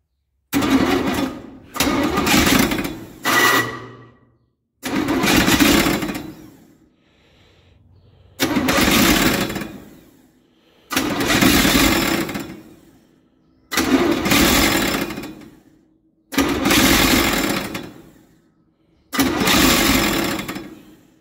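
A truck's 283 V8 starter cranks in repeated bursts, about eight attempts separated by short pauses, a loud whirring grind that never catches.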